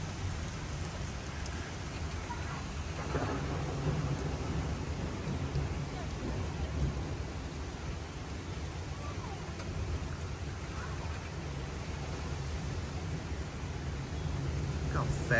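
A severe thunderstorm in St. Charles, Missouri, with 60-70 mph winds brings steady, dense rainfall hissing on surfaces, with low rumbles of thunder rolling faintly through the downpour.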